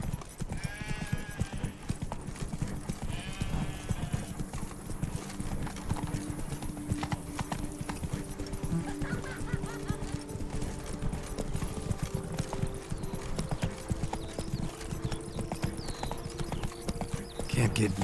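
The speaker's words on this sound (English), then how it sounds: "Run, Roach." Roach, a horse in the video game Witcher 3: Blood and Wine, gallops with rapid, rhythmic hoofbeat clip-clops that continue steadily and loudly throughout, with faint voices and game ambience behind.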